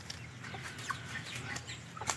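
Free-range backyard chickens cluck softly in a farmyard, with a few brief clucks and calls spread over a faint, quiet outdoor background.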